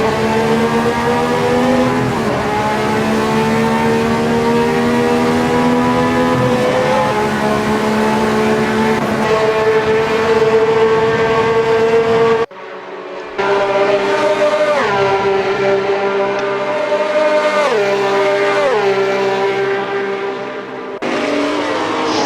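1967 Ferrari 312 Formula One cars roaring in a racing video game at Kyalami, loud high-revving engines rising and falling through gear changes, several cars passing close, with a brief cut in the middle.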